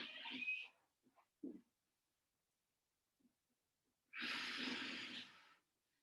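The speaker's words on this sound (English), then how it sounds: "Two more breaths." Slow breathing during a Pilates stretch, one soft exhale at the start, a few faint snorts and breaths in the middle after a long quiet pause, then a longer, louder breath near the end, close and alone.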